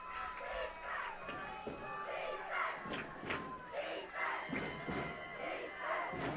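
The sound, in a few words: football crowds cheering for their teams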